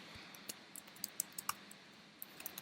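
Scattered keystrokes on a computer keyboard, light and close, a dozen or so quick taps in an irregular rhythm with short pauses, in a quiet room during a live classroom lecture on Git.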